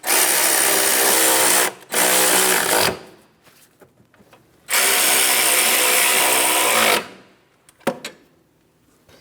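A power tool snugs the upper control arm mounting bolts on a 2003-2007 Cadillac CTS, running in two loud, sustained bursts of about two seconds each with a short spin-up between, followed by faint clicks and quiet handling.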